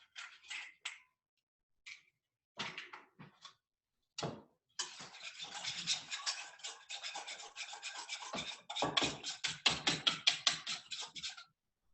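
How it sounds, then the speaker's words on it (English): An egg being whisked with sugar in a bowl for blue corn muffins, opening with a few separate strokes before settling into a quick, steady scraping rhythm, faint and close with no talk. "We're going to add the 4th cup of sugar and whisk that together with the egg."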